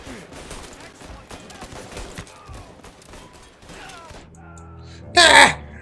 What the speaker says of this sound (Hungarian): Végre lövöldözés, imádom a lövöldözést.